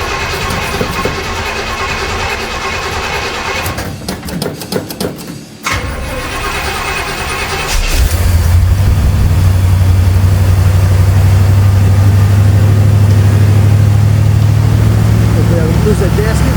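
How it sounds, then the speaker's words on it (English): A 1971 Pontiac Catalina four-door with a freshly rebuilt two-barrel carburetor cranks for several seconds, pauses, then catches and settles into a loud, steady idle with a strong low rumble. "I'm going to try to fire it up now and see what happens"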